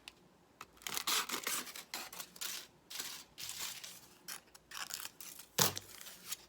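Scissors snip through scrap paper to cut out a rectangle for a tin-foil art project, a series of close, crisp rasping cuts in uneven bursts with short pauses between them.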